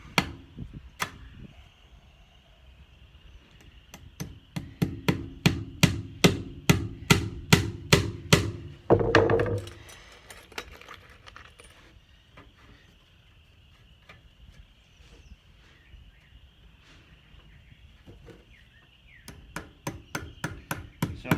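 Staple gun fired over and over into chinking on a log wall, a string of sharp, evenly spaced snaps that grow louder, break off, and then return sparsely.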